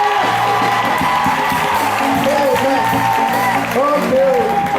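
A church congregation cheers and applauds for its pastor: a dense crowd of clapping, whoops and shouts at close range, with voices calling out over the din.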